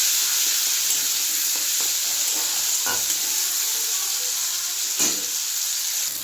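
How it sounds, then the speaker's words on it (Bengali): Ground spice paste fries with cabbage in a pan, giving a loud, steady sizzle throughout, broken by a few soft stirring scrapes. "এবার দিয়ে দেব বেটে রাখা মশলাটা। খুব ভালোভাবে ভেজে নেব।"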